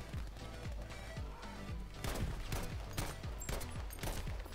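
Gewehr 43 semi-automatic rifle fire in the Battlefield V video game, a run of sharp, closely spaced shots with echoing battle noise, loud and alone without talk.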